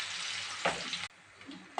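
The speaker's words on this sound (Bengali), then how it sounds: "পেঁয়াজটা লাল লাল মতন একটু ভাজা হয়ে গেছে" Chopped onions fry in a pan with whole cumin, cloves, bay leaf and cinnamon, a soft, close sizzle broken by a couple of brief stirring scrapes and a short dip in level.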